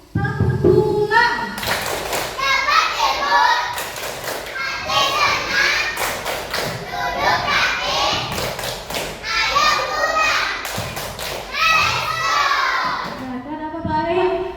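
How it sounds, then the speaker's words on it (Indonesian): Schoolchildren in a fourth-grade primary classroom perform a going-home clapping routine, rhythmic group claps and thumps in repeated bursts mixed with loud chanting voices, continuing steadily throughout. "Kita tepuk pulang ya."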